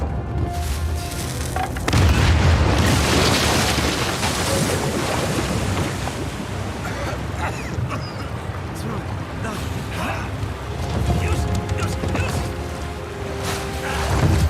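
A large explosion in Uncharted 4 erupts as a loud, sustained roar with deep rumbling low end, swelling again near the start and end of the stretch, with a voice briefly audible over it.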